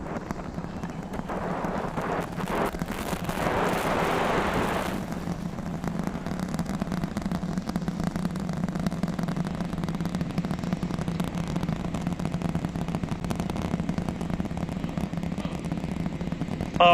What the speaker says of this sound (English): The rumbles are still building here in the Raptor's nest